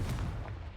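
A Confringo spell goes off in Hogwarts Legacy, a short, dense, rumbling blast with heavy low-end boom that holds steady and then tails off slightly within a second.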